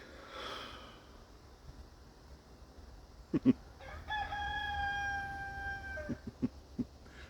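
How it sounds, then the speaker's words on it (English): A rooster crows loudly once, a long ringing call, preceded and followed by a few sharp knocks and faint background noise. "Rooster."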